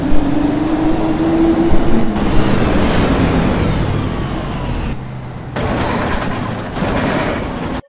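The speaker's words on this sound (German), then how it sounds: "Also der Bus ist eigentlich ganz gut, der Sound sieht auch gut aus" A Jelcz M121MB bus drives in the OMSI bus simulator game, a steady loud engine and rolling drone with a rising gear whine, shifting tone partway through.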